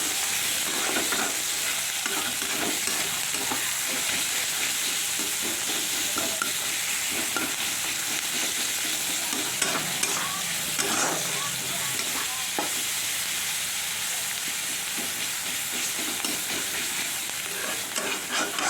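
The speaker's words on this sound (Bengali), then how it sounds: "পেঁয়াজ কুচি, পেঁয়াজটা একটু ভেজে নেব।" Chopped onion frying in a pan for an atta (wheat flour) pasta, with a steady, close sizzle and frequent scraping stirs throughout, no talk.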